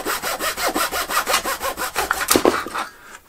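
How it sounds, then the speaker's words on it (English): A handsaw makes a rough cut through a wooden rudder part for a Stampe SV4 biplane model, with about fourteen quick, even rasping strokes close up, speeding slightly near the end before stopping abruptly. "I just want to come in and do a rough cut and just kind of break everything loose"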